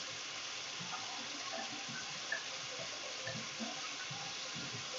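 Tap water running steadily while hands are rinsed, a soft continuous hiss and splash with faint irregular patters, heard alone at low level.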